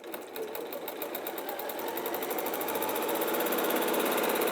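A sewing machine stitches a fabric bag, its rapid mechanical whir building in speed and loudness, close and with no talk over it.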